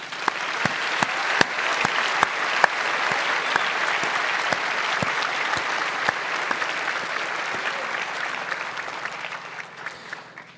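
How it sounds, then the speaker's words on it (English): Sustained applause from the crowd at a high school graduation ceremony in East Hampton, steady and full for around ten seconds with a few sharper individual claps standing out, gradually easing at the end. "Please join me in giving a round of applause to all who are responsible for this senior class becoming graduates."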